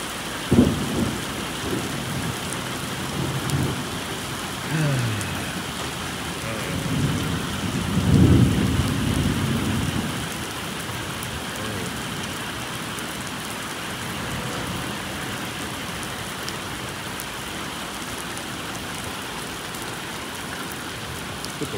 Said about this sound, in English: That rain is cold too.